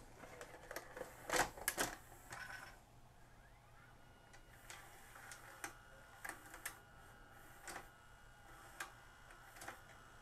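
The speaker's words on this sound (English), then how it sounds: "Let's see if it'll load a tape." A Magnavox ZV427MG9A VCR loads a tape with a series of mechanical clicks, clunks and whirring motor sounds, quiet and close, with no speech.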